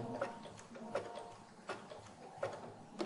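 Sewing machine sewing lace with a zigzag stitch at low speed, slow evenly spaced clicking needle strokes over a soft mechanical hum, close and quiet.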